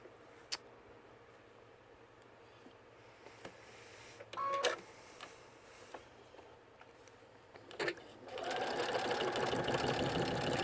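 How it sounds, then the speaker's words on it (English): A sewing machine stitches a quarter-inch bottom seam on a washable fabric face mask, starting after some faint handling clicks and then running loud and steady for the final few seconds. "I'm just going to do one quick bottom stitch right from here and just sew right around there"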